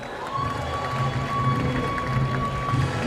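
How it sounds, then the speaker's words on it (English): A crowd at a medal ceremony applauds and cheers loudly and steadily for the whole stretch, with a faint tone running underneath. "Ladies and gentlemen, give him a round of applause."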